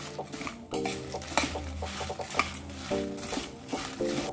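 Chana dal and urad dal frying in a spoonful of oil in a pan, with metal spoon scrapes and clinks against the vessel over a faint sizzle, close and steady with no talking.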